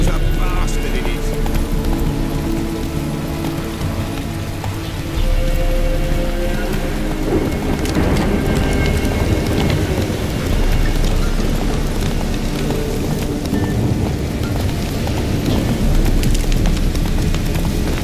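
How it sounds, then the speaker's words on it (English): Heavy rain pours steadily in The Witcher 3: Wild Hunt, a dense, loud hiss lasting throughout with horse hooves clopping and other game sounds mixed in. "This downpour's a bastard, it is."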